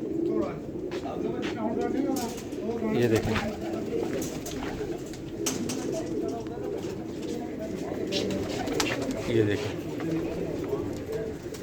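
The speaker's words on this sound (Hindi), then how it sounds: "हर तरह के कबूतर अवेलेबल हैं" Many pigeons coo steadily together in a large loft setup in Rawalpindi, with layered soft calls throughout while someone talks over them.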